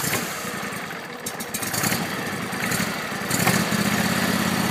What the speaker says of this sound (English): So we'll fire it up.